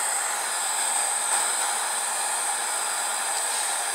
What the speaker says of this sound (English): a heat gun will work